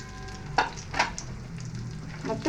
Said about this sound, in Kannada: ಮತ್ತೆ ಚೆನ್ನಾಗಿ ಫ್ರೈ ಮಾಡಬೇಕು.